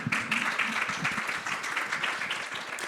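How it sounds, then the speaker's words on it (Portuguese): Audience applause at a panel event on health data infrastructure, as a speaker is called to the stage; dense, steady clapping fills the room throughout, with faint voices underneath. "Uma salva de palmas"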